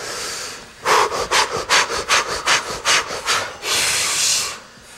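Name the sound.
fire breath, rapid panting breathing exercise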